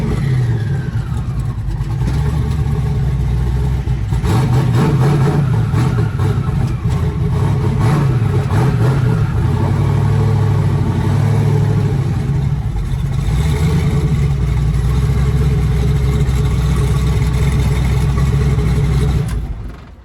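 A twin-turbo Driftfox car engine runs steadily for twenty seconds just after being pulled off a trailer, idling loud and close with several rising revs in the middle before settling back, no talk over it.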